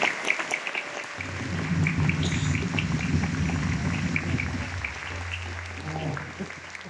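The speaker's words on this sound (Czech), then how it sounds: "Je to velký potlesk." A large crowd at Comic-con Prague gives a big, dense round of applause, loud and continuous like heavy rain, with a low rumble underneath and some voices mixed in.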